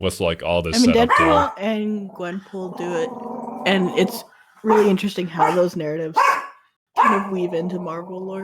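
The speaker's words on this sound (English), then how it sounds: "Apologies if you hear the barks in the background." A dog barks now and then in the background, faint and partly masked beneath steady conversation about comic book lore.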